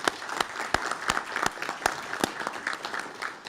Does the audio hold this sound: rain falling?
no